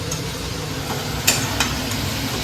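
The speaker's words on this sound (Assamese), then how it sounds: "ফুলকবি ভাজি" Cauliflower fries in a pan at home, a constant close sizzle broken by a couple of brief sharp crackles or stirring clicks.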